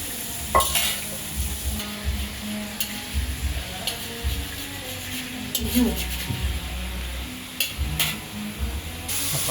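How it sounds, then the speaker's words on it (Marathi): Chicken pieces sautéing in a pan, kept pale rather than browned, with a steady close sizzle and repeated stirring scrapes throughout. "तर ते म्हणजे सॉते करून घ्यायचे."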